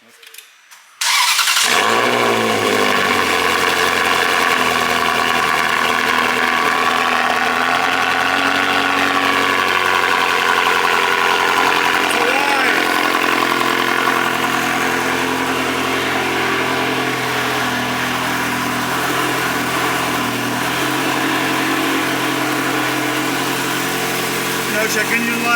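A Ferrari 360 V8 after a timing service cranks and fires up loudly, then settles into a steady, close idle that holds for over twenty seconds.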